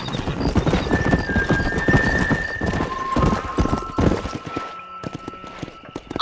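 Hooves pound in a fast, close gallop as a horse races in Red Dead Redemption, then thin out and fade near the end, with a sustained tone lingering behind.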